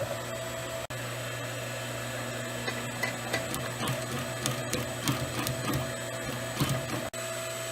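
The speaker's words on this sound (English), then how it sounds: "we want to add the French stitch, the French seam on this one side of the bolster to replicate the original seat" A sewing machine runs with a steady close-up motor hum and rapid needle ticking while stitching a French seam along the side of a car seat bolster during reupholstery.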